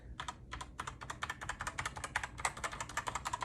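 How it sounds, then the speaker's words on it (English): Rapid plastic key clicks from a KeyMaster Learning Lights keyboard being pressed, a steady close run of light taps with no talking. "Press the set key plus the desired key to turn on or off individual keys"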